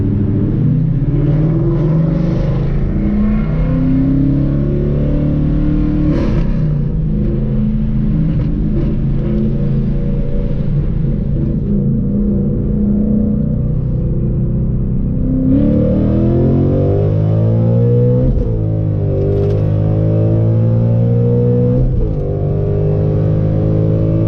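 A car engine revs hard under sustained acceleration while the clutch slips, producing a loud continuous droning roar whose pitch climbs and sags, with a brief dip near the middle and a shift around fifteen seconds.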